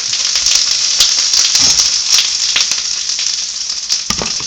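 White onion and garlic sizzle steadily in a hot pan for fajita tacos, a loud continuous crackling hiss with occasional stirring scrapes and clicks close by.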